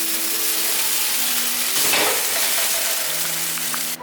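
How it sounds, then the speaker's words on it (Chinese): A breaded vegan cutlet pan-fries in a little oil over medium-low heat, producing a steady close sizzle with a brief louder surge of crackling midway and a faint utensil clink at the end. "我们来煎这个素排。"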